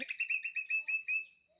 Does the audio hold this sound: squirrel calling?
yes